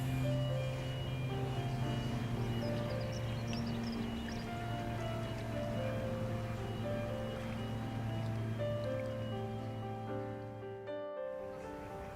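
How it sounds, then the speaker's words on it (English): A pleasure boat engine hums steadily close by on a canal for several seconds, a droning tone with slowly shifting pitch, then it fades out abruptly near the end. "Plenty of boat traffic even today."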